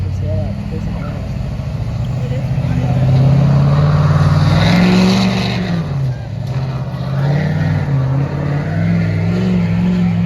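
A 2019 Ford Super Duty diesel pickup revs hard at a fall fair truck and tractor pull, its deep engine roar swelling and dipping loudly throughout while a commentator talks over it.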